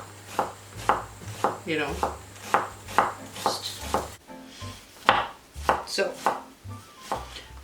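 Onions being finely diced with a knife on a cutting board, a rapid series of crisp, close chops in an even rhythm, with a few brief spoken words mixed in.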